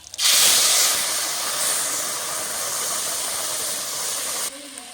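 Bay leaf, whole cumin and ground ginger-green chilli paste hit hot mustard oil in a kadai with a loud, steady sizzling hiss that starts abruptly, holds for several seconds, then drops away.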